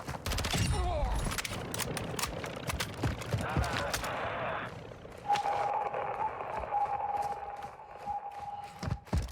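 Gunfire in Warzone 2.0 DMZ, a first-person shooter: a burst of rapid shots up front, then scattered sharp reports and a thin tonal whine over game ambience, fairly loud and close.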